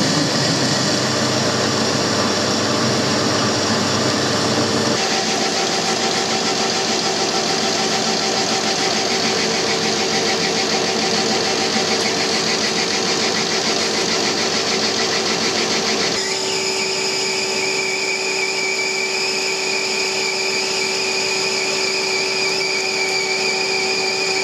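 A machine tool cutting hard steel for a cylinder liner puller, a loud continuous mechanical drone with a whining tone that shifts in pitch twice as the cut changes, steady throughout with no talking.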